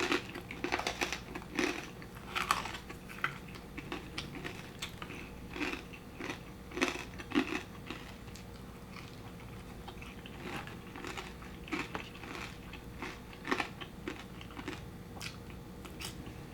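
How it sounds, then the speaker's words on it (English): Crispy refried pork belly being bitten and chewed up close, loud crunchy bites and crackling chews repeating steadily throughout with no talking. "As for me, pork belly has to be crispy and crunchy."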